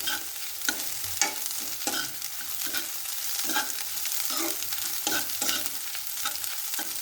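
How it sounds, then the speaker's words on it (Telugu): Egg fry sizzles in a pan under repeated stirring, a constant close hiss broken by rhythmic scraping strokes. "ఇది కొంచెం ఉడకనివ్వండి, అంటే మగ్గనివ్వండి ఇలా"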